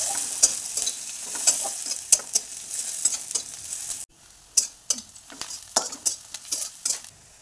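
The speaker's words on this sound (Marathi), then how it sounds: "कांदा आणि हिरवी मिरची, छान परतून घ्यायचं" Onion and green chili sautéing in a pan for potato poha, with a continuous sizzle and repeated scraping stirs of a spoon against the pan. The frying drops quieter halfway through while the stirring continues.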